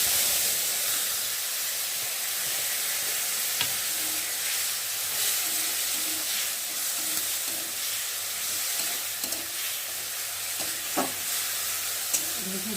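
Mashed raw green tomato hitting hot oil with mustard and five-spice tempering, a loud, steady sizzle and hiss throughout, with occasional spoon scrapes and clicks close by.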